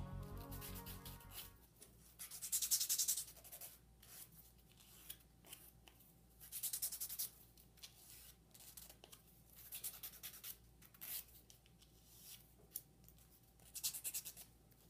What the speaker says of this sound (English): now I'm going to use a fine file and I'm just going to sand the edges